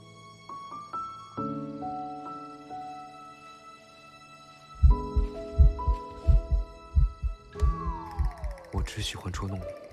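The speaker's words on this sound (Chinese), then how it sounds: "我刚才听见了，你心跳的好快哦。" A fast heartbeat sound effect enters midway as a run of quick, deep, evenly spaced thumps under soft background music and tones in a period romance drama scene.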